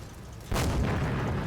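A single heavy gun report fired at a Jackson tank destroyer in the Combat Mission wargame, a sudden close boom that rolls on into a rumbling tail.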